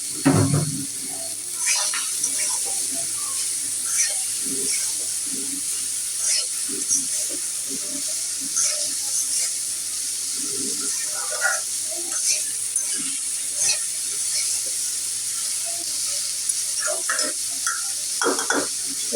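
Okra frying in a pan with salt, turmeric and coriander powder, a steady sizzle and hiss running throughout under repeated scraping stir strokes from a spatula, close and fairly loud.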